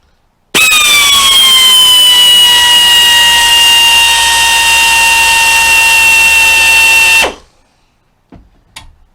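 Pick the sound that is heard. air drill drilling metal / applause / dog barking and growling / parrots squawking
air drill drilling metal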